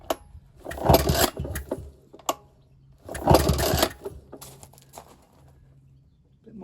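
A vintage Ner-A-Car motorcycle engine catching, with two loud bursts of ragged firing and revving separated by quieter sputters as it dies back down between attempts.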